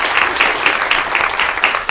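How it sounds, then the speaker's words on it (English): Audience applause for a speaker at a healthcare leadership panel, brisk steady clapping from a room of people, loud and close throughout. "So a round of applause for Ms."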